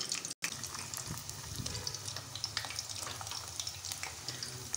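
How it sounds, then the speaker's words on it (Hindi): Semolina gulab jamun dumplings frying in moderately heated oil, giving a steady, close, fine sizzling hiss that runs evenly throughout. "हम ऑयल गरम करेंगे और उसके अंदर डालेंगे गुलाब जामुन को।"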